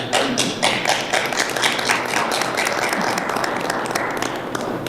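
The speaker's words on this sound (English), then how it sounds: "I'll clap for you, Madam President." People clapping for board members at a school board of education meeting, a dense stretch of scattered hand claps with some taps and thumps, steady and fairly close.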